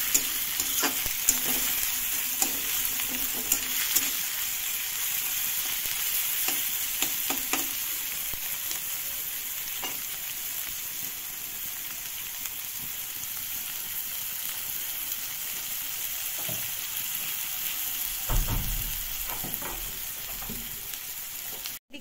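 Onions fry steadily in a pan for a fish curry, giving a continuous close hiss with scattered clicks and scrapes from stirring, loud and without any voices.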